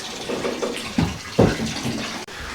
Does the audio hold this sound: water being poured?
yes